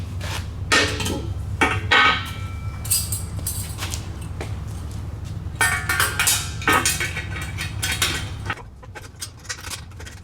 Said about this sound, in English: So now I'm going to bolt on the back section of the exhaust.